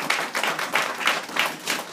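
A church congregation at a seminar on dreams bursts into applause, with many hands clapping steadily together in waves of moderately loud, crowded clapping for about two seconds.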